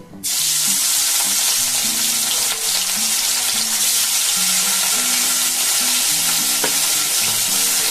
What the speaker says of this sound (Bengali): তো আমি মাছগুলোকে একটা একটা এইগুলোকে ভেজে নেব